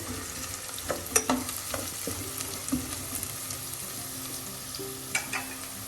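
Onions frying with turmeric powder for cabbage thoran, a steady crackling sizzle broken by repeated spoon scrapes and taps against the pan, close and quiet, no one speaking.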